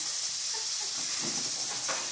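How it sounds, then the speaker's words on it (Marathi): A pressure cooker cooking rice in a home kitchen gives off a steady, soft hiss of escaping steam, continuous and fairly quiet with no talk over it. "आणि मी आता भाताचं पण कुकर चढवलेलं आहे"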